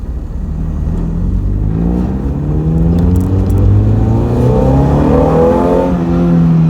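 A Mazda Miata engine with SpeedyEfi revs up steadily at half throttle in first gear, its pitch climbing over several seconds, loud and close with a rumbling tone.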